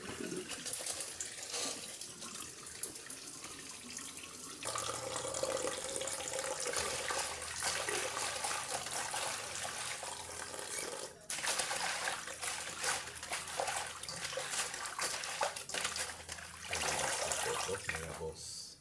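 Tap water pours over milkfish (bangus) being rinsed in a kitchen sink, a steady hissing splash with shifting gurgles as the fish is handled, close and continuous while someone talks.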